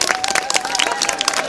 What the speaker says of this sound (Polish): Każdy klaszcze.